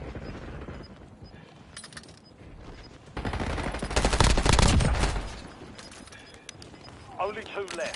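Bursts of rapid gunfire crackle loudly in a video game match, building to a dense volley mid-clip before easing, while players talk over it.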